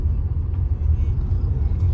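Inside a moving Tata Punch EV, a steady low rumble of tyres spinning on the road blends with a faint hum of the air conditioning, continuous and even, no voices.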